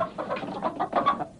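Hens cluck in a short run of close, fairly loud bursts, several uneven clucks in quick succession with no talking.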